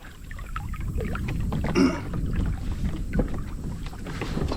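A Walker Bay 8 sailing dinghy heads toward shore, bringing steady wind noise and water washing and gurgling against the hull, with one brief louder splash.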